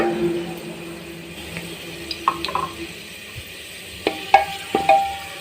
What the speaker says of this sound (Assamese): তেলত নহৰু ভাজিলে বৰ ধুনীয়া এটা স্মেল আহে